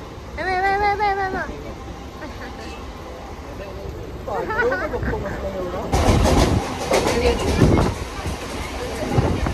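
A small ride train rumbles and clatters along at a resort, growing louder partway through, while people talk and sing loudly over it.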